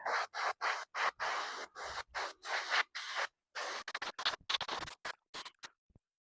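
Aerosol spray paint hissing onto a Honda CT70 motorcycle part outdoors, in a series of short close bursts with brief gaps, the passes getting quicker and choppier toward the end.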